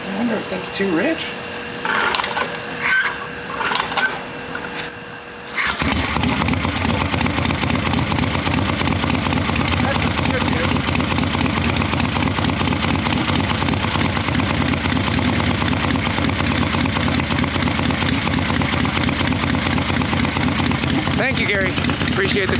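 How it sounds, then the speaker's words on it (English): A swap meet chopper motorcycle engine starts and settles into a loud, steady, rough idle that carries on to the end, preceded by a few seconds of quieter shuffling and rattles, with someone talking over the engine noise. "hopefully you can hear me over this loud bike. Air cleaner, idle is substantially better"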